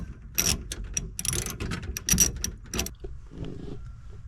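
A 1/4 inch ratchet clicks in quick uneven bursts while working on the heater box of a 1967 Pontiac Firebird, close and crisp, trailing off into softer scattered ticks.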